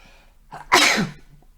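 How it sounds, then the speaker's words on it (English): A single close, sharp sneeze bursts out after a brief intake of breath, loud and explosive, then fades into quiet. "I'm going to sneeze again."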